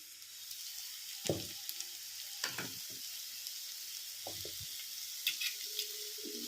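A tomato and carrot curry with masala sizzles quietly in a pan while being stirred, with a few sharp scraping clatters of the spoon against the pan over a soft, steady frying hiss.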